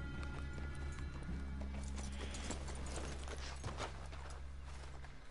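Horses walking with hooves clip-clopping in Red Dead Redemption 2, a steady stream of hoofbeats over a continuous low rumble and ambient game sound, with no talk.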